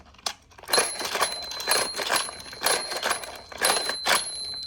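A Thomas and Friends Bell Station toy rings out in repeated metallic bell bursts, roughly five or six rapid clangs close to the microphone with short gaps between, alongside a faint steady electronic tone.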